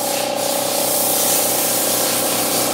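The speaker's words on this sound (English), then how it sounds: "Compressor's kind of loud over here" Air compressor running steadily and loudly close by during detailing of a Jeep, a continuous broadband hiss with a low mechanical hum underneath and no pauses.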